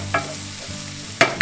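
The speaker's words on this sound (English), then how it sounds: "Now we add our onions to the oil. We want them to saute until they're translucent." Onions sauteing in hot oil in a pan, a steady close sizzle with two or three brief louder stirring scrapes, no voices.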